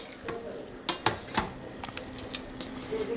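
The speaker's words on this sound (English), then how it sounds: "Now I'm going to add just 2 teaspoon of lemon juice. Mix it everything together." Mutton biryani being mixed with lemon juice in a pot, giving soft stirring scrapes and a few sharp clinks of a spoon against metal over a faint steady sizzle.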